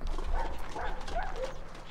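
Dogs in The Sims 2 bark and yip in a short, excited series of close, moderately loud barks over faint game background sound.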